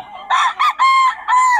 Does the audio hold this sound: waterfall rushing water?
no